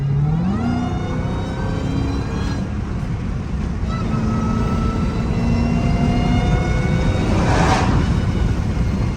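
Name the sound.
Dodge SRT Hellcat accelerating, engine revving, not full throttle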